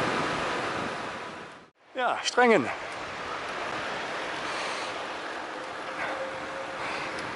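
Wind buffets the microphone during a bike ride, a dense continuous roar that briefly cuts out and then returns, with someone speaking a few words in the gap before the gusting noise carries on.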